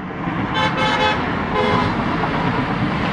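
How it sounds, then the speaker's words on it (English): A car horn honks in a parking lot outside a restaurant, several short blasts in quick succession, loud and near over a constant hum of traffic and engine noise. "Somebody there honking at me"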